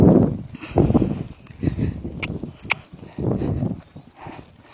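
Tennessee Walking Horse moving at a flat walk under a rider, hooves clip-clopping in an uneven four-beat rhythm, close and moderately loud with scuffing between steps.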